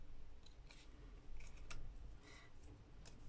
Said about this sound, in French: on va recommencer avec le ciseau